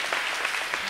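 A church congregation applauding in acclamation of the Holy Spirit, with dense, steady clapping from many hands heard close and alone for a brief moment.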